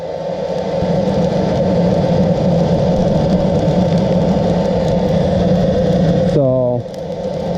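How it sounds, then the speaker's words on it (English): A hairdryer blows a steady, loud roaring stream of air into the ash-filled charcoal of a Kamado Joe ceramic grill to light it, continuing unbroken until a brief voice near the end. "So I'm just going to use the wife's hairdryer"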